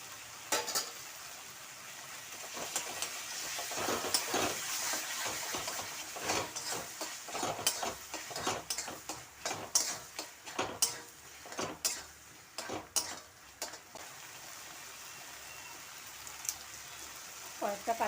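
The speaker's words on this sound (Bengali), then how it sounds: "অল্প অল্প গরম জল দেবো আর মশলাটা কষিয়ে নেব" Spice masala for a pointed gourd curry fries in a pan as a little hot water is added, with a steady sizzle and repeated scraping, clinking stirs that come and go.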